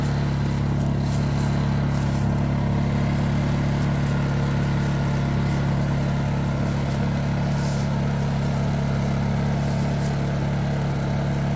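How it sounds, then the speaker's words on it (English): Harbor Freight 2500-watt inverter generator running steadily with a small fan plugged into its 110 outlet, a constant close engine drone and hum that stays even throughout, with no change in pitch under the light load. "As you can tell, the generator never changed sounds."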